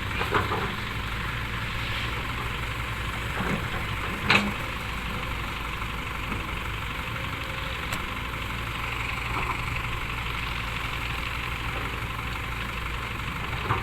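A Hino 344 ten-wheel truck's JO5E diesel engine runs steadily at around two thousand rpm, a constant low rumble heard up close with one brief knock partway through.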